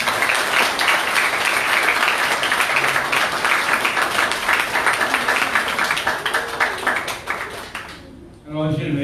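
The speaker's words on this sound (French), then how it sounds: "Merci pour lui, on applaudit." Sustained applause from an indoor audience at a care home naming ceremony, dense steady clapping that fades and breaks off near the end as a voice begins.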